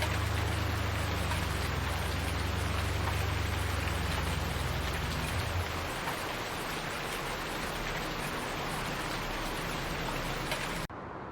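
Steady rain in Farming Simulator 19 hisses continuously over a low mechanical hum that drops away partway through, then the rain cuts off abruptly at the end.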